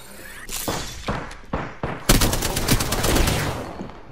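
Rapid gunfire bursts from weapons in the Apex Legends video game, a dense run of loud automatic shots and sharp individual cracks following one another over several seconds, with no voices over them.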